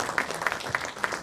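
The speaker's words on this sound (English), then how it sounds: "Please give him a big round of applause too." Audience applause at a quiz semi-final in New Delhi, steady and moderately loud with a few sharper claps standing out, filling the whole brief moment without pause.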